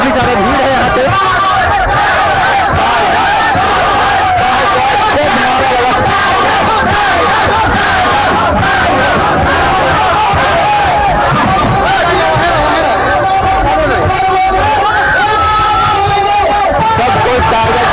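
A large crowd at a political rally welcoming Tiger Jairam, loud and close, with massed voices chanting and yelling slogans in a dense, continuous roar of cheering and babble.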